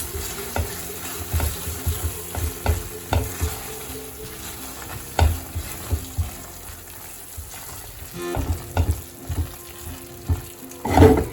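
A spoon stirs thick paneer gravy in a pan, giving soft wet scraping and squelching strokes in an uneven rhythm over a faint bubbling simmer, close and moderate in level, with a louder clatter near the end.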